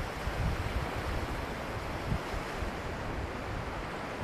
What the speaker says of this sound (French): Laissez les vagues venir vous bercer.